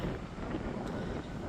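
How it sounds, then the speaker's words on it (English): Steady wind blowing across the microphone on a cool, blustery June day at the Sault Ste. Marie waterfront, a continuous broadband rush with no pauses. "It's very windy and it's cooler than yesterday"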